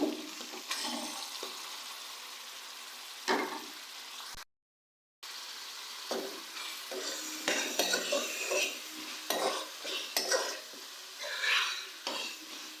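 Minced meat frying with spices in a pan, with close stirring scrapes and clinks of a spoon against the pot over a soft sizzle, briefly cut by a silent gap.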